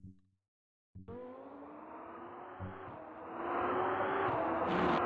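A race car engine in the Automobilista 2 racing game, heard from an outside view: after a brief silence the harmonic engine note starts and climbs steadily in pitch and loudness, with a whistling edge at the end.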